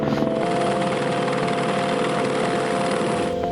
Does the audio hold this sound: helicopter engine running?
yes